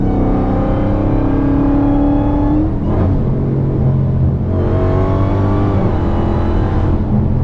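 A Dodge Hellcat's powerful V8 engine revs loudly up close, its deep rumble surging and dipping through repeated throttle blips.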